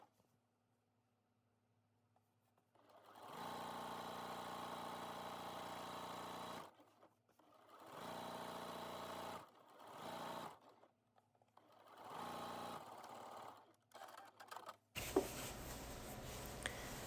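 A sewing machine stitches a skirt seam in several bursts, each running steadily for a few seconds before pausing, close and clear in a quiet room, followed by a brief rustle of fabric at the end.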